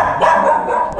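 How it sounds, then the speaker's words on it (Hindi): A pet dog barks and yaps repeatedly, loud and close, in a continuous excited burst with no other sound competing. "पांडा सिर्फ दूर से भौंकता ही हुआ और आ गया और आ गया।"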